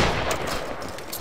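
A musket volley rings out in the Battle Grounds III video game during a linebattle, a dense loud burst of overlapping gunfire that fills the moment, followed by a fresh sharp report at the end.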